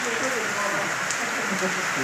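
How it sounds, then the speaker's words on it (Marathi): Heavy evening rain falling on a farm after the pomegranate harvest, a dense, steady hiss of drops on surfaces filling the whole clip, with a voice talking over it. "संध्याकाळी मस्त जोरदार पाऊस झाला खूप पाऊस झाला"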